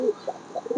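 Satin pigeons, blue and black varieties kept for sale, give a few soft, close coos in short bursts over a quiet background.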